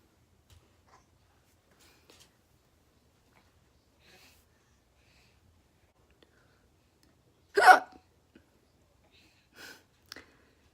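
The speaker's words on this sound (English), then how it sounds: "My hiccups are very obnoxious." One sharp, loud hiccup stands out in an otherwise quiet room, followed by two smaller, fainter hiccups a couple of seconds later, with only faint rustling between them.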